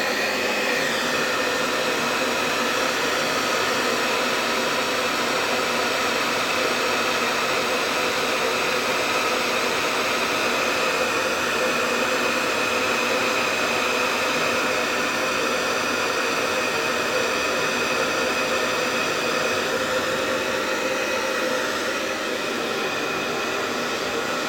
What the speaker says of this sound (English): I've got to use a hairdryer to whip these things into submission.